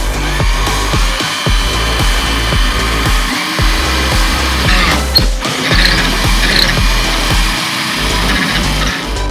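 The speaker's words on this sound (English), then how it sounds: "we're going to go ahead and drill a hole there" Power drill boring a hole near the license plate of a 2G DSM Talon TSi for a reverse camera, a loud close whining motor running continuously with brief dips and restarts between bursts.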